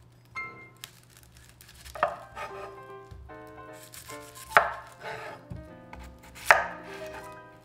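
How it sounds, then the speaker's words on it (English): Knife chopping an onion on a cutting board, with a few sharp, loud chops at irregular intervals and softer cutting and handling noises between them, heard close up with no speech. "Next, I'm gonna chop the onion."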